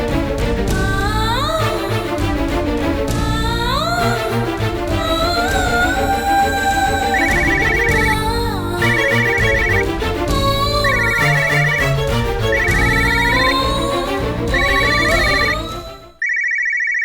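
A mobile phone ringtone plays as a loud, continuous melodic tune with a repeating chime motif, ringing on through a Tamil TV drama scene about unanswered repeated calls, then cutting off abruptly near the end.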